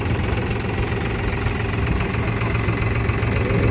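New Holland T3.50 Plus tractor plowing a rice field through thick grass in gear H1, its diesel engine droning steadily and loudly at close range with a deep, even rumble and no speech.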